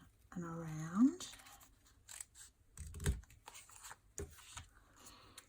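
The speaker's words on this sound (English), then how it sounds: "cut this out and around" Scissors cut a paper piece for a scrapbook pocket page, making a few short crisp snips and rustles. A voice speaks briefly over them.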